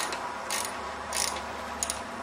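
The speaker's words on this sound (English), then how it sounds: "just crack this bolt loose." A ratchet cracks loose a bolt on an Evinrude Johnson outboard gear case, giving a few short clicking bursts over steady background hiss, near and fairly faint.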